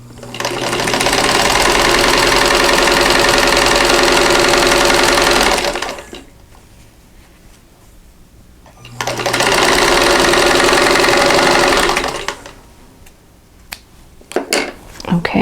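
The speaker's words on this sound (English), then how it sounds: "just swing it around and sew on the other side" Sewing machine stitching a quilt block, two loud continuous bursts of rapid mechanical stitching separated by a quiet pause, followed by a few sharp clicks and handling noises near the end.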